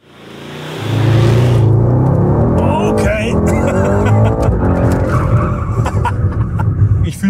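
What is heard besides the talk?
Mercedes-AMG car drifting on asphalt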